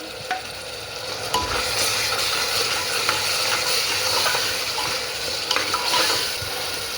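Onion and ground paste being sautéed in a pan for a green pea pulao, with a steady sizzle and repeated scrapes and stirs of a spoon against the pan throughout.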